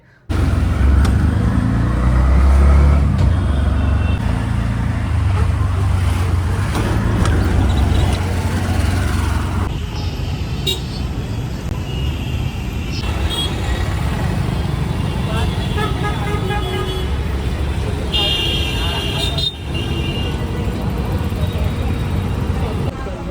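Loud, steady engine and road rumble from a car on a trip to a Konkan village for the Ganpati festival, continuous throughout with voices talking over it.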